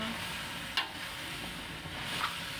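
Vegetables stirred in a cooking pot for ginataang kamansi, a soft scrape of a utensil with a faint background sizzle, close and quiet.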